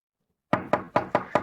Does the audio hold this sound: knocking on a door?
yes